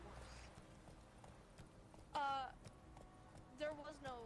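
Horse hooves clip-clop in The Witcher video game, a few quick bursts of steps under near, continuous talk from players.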